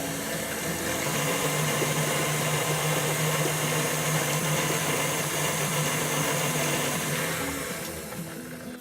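Electric mixer whirring steadily as it blends coconut sugar and maple syrup for a gluten-free coconut almond brownie cake, a continuous loud motor drone that eases off slightly at the end, with no talking.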